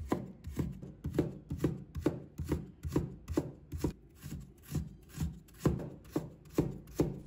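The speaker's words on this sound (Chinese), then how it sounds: "再切成丝。" A knife chops cabbage into fine shreds on a board in a steady, rapid rhythm of close, crisp strikes, roughly two per second, with no talk.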